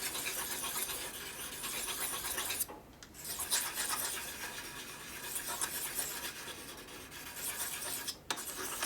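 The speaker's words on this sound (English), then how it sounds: "This knife appears to be dull now that I scraped that carbon out of that cylinder." A knife blade scrapes carbon deposits from a 1988 Harley-Davidson FXR piston in steady, rasping close-up strokes, with brief pauses between passes.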